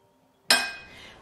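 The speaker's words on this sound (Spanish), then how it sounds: "vamos a taparla" A lid set down on a pot of rice cooking with beef and vegetables gives one sharp metallic clink against a quiet background. The ring then fades slowly over about a second.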